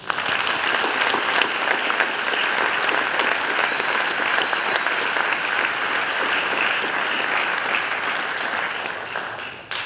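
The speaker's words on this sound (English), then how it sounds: "Can we give all these students a round of applause?" Audience applause for students inducted into a high school National Honor Society, a dense, steady roar of many hands clapping for nearly ten seconds before it tapers off at the end.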